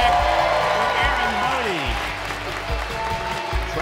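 An audience applauds steadily in a broadcast studio throughout, a sustained wash of clapping with a host's voice and music underneath.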